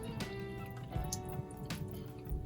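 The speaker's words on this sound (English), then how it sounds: "And then you just drain all the water, because you're going to add your dry seasonings." Water draining off seasoned oxtail meat in a home kitchen, heard as faint, quiet drips and small liquid splashes with a few brief spattery bursts, no talking.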